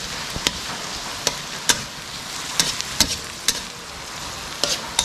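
Garlic browning in butter for butter garlic shrimp, a steady close sizzle with occasional sharp crackles and spatters scattered through, no voices.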